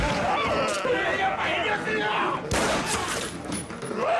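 Gunfire in a zombie movie scene: a continuous burst of rapid shots and clatter lasting a few seconds, dense and loud, with voices mixed into the din.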